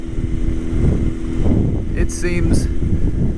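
A 1998 Honda CBR600F3 sport motorcycle rides through a neighborhood, its engine drone steady and close beneath heavy wind buffeting on the microphone, with a rider speaking briefly over it.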